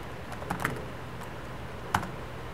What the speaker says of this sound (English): the keyboard on here is a lot less clicky, but it still has the same tactile feel